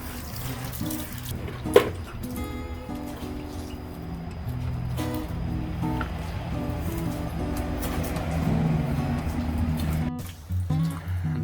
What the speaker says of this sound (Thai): ขั้นตอนต่อไปก็จะมาล้าง ล้างขากันนะครับ